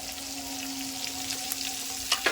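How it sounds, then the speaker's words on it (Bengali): Katla fish frying in oil during a rainstorm makes a steady, even sizzle with a faint hum and a couple of brief spatter pops near the end. "অলরেডি মাছ ভাজা শুরু হয়ে গেছে"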